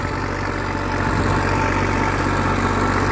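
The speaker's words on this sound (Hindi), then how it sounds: "और ये छोटा सा ट्रैक्टर है 40 HP का" A small 40 HP tractor engine runs at a steady idle on a farm, its low, even rumble continuous and close throughout.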